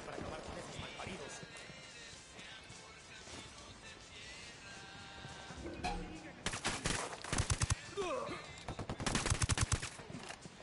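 Gunfire in the video game Ghost Recon Wildlands, bursts of rapid shots that grow denser and louder toward the end, mixed with game sounds and voices.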